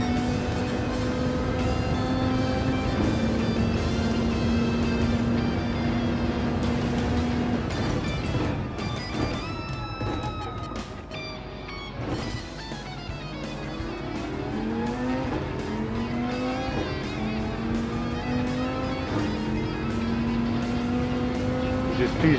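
Race car engines in Gran Turismo 7 on Deep Forest Raceway roar continuously and loud, their pitch climbing and dropping through gear shifts, with other cars' engines layered alongside.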